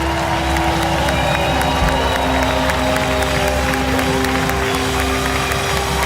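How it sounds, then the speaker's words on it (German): Large church anniversary crowd clapping and cheering loudly, a dense continuous roar with steady hand claps and sustained tonal sound running underneath throughout. "dir gebührt der nächste Applaus"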